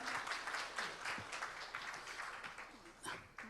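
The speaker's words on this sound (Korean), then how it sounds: "큰 박수 부탁드립니다." An audience at a history lecture applauds as a speaker is welcomed, a fairly soft, dense patter of clapping from a hall crowd with a few voices mixed in.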